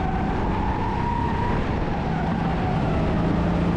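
A race car lapping a circuit during a Time Attack event at Racing Center Łódź, its engine loud and continuous throughout, holding a steady droning note with a slight rise in pitch.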